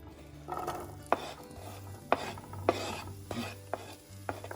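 Onions sautéing in melted butter and a little oil for Jamaican curry shrimp, a soft sizzle under repeated metallic scrapes and taps of a utensil against the pan.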